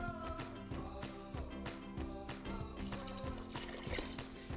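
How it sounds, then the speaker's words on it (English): Water pours into a pot of chicken stock in a kitchen, a continuous splashing trickle with a pulsing, bubbling texture heard up close. "I'm gonna top it up with a bit of water."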